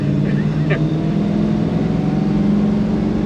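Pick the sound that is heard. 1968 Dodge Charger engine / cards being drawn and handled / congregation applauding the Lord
1968 Dodge Charger engine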